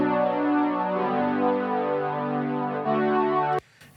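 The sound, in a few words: synth line in a pop song production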